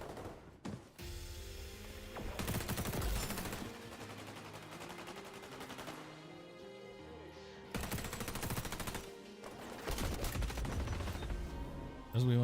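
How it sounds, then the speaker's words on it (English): Dense automatic weapon fire in the XDefiant shooter game, long sustained bursts broken by short gaps, loud and continuous throughout with no talking over it. "He wants to start shooting bodies."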